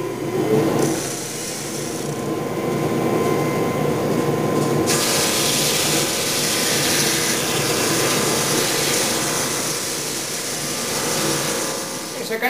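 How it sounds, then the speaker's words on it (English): A horizontal drum sander thicknessing thin wood banding strips for a veneered table runs as a loud, steady broadband roar that grows harsher partway through, with a constant machine hum beneath. "I'll use the horizontal drum sander to thickness these pieces and get them nice and smooth."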